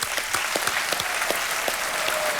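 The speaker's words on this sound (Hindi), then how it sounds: "बहुत खूब, तालियां बज जाए इसके लिए।" A television quiz show's studio audience bursts into sustained applause, a dense continuous patter of many hands clapping with a few sharper individual claps popping out, fairly loud and even throughout.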